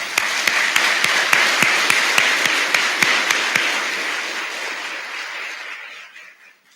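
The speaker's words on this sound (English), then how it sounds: "Let's give them a round of applause." Graduating fire departments receive applause at a fire academy class graduation: a crowd's dense clapping with a few sharp individual claps, loud at first and tapering off into silence.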